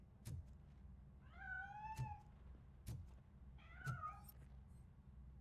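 A cat meows in the game RoboCop: Rogue City, giving two drawn-out, rising-and-falling cries over quiet ambience, with several sharp soft knocks spaced through the background.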